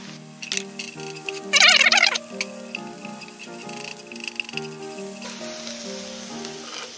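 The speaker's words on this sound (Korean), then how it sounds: "볶아졌으면 양파를 넣어 주시고요" Onion goes into a pan of stir-frying carrots for japchae, a soft sizzle and crackle with occasional stirring taps, set under a gentle tune of plucked notes.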